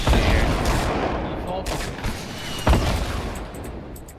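Rapid bursts of gunfire in a Fortnite match, dense and loud throughout with a sharper crack near the end, while a player talks over it.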